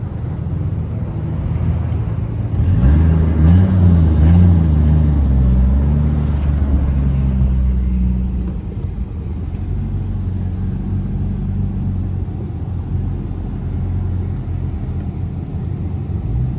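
A car driving on the road with a deep, steady engine rumble close by. The tone swells and shifts as the revs climb briefly partway through, then settles into a quieter, even drone.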